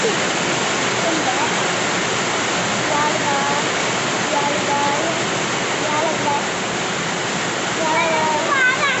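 Heavy rainwater rushes and splashes as it flows toward a drain hole, a loud, steady hiss that fills the scene without a break, with faint voices underneath.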